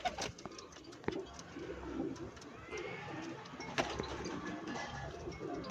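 Pigeons cooing at a bird seller's loft, soft repeated coos with a few sharp clicks and wing or cage knocks, close and steady through the clip.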